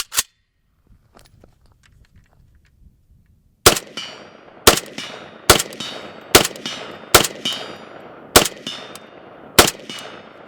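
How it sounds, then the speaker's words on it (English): Seven loud, close rifle shots from an AK-pattern rifle firing live rounds, evenly spaced about a second apart after a quiet lead-in with faint handling noises, each crack followed by a short ringing echo. "we're going to go live fire"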